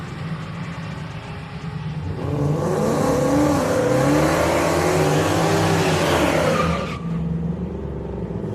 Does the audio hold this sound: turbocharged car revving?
yes